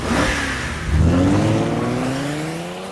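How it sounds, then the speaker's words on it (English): A 375-horsepower Hyundai Genesis accelerates hard, its engine note climbing in pitch as it revs up, loud and close throughout with a brief surge near the start. "The new 375 horsepower Hyundai Genesis can go from 0 to 60 faster than a Porsche Boxster"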